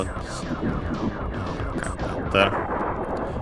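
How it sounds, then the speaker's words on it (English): An enemy aircraft blows up in the Star Fox video game: a loud burst rises from a dense bed of rapid gunfire and rumbling game effects, steady and busy throughout. "this time the explosion is the enemies, not us"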